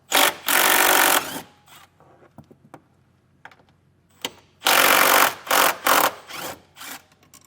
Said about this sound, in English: But we are going to remove these two bolts.